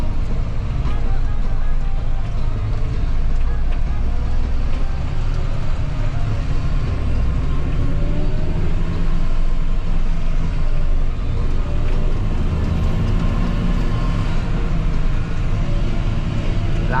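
A tractor engine running steadily while driving, a loud constant low rumble with rattling, and people talking over it throughout.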